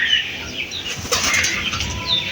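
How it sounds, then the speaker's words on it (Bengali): Pigeons beat their wings in a short, close flurry of flapping, loud and busy for about two seconds, with no voices. "কি সুন্দর কবুতর এগুলা, দেখে মনটা জুড়িয়ে যায়।"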